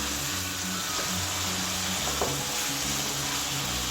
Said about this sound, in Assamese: 2 মিনিট মই এনেকৈ ভাজি লওঁ।